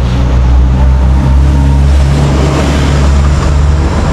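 A 6.5-horsepower diesel engine water pump runs close by at a steady idle, a loud continuous low throbbing drone with no pauses or change in pace.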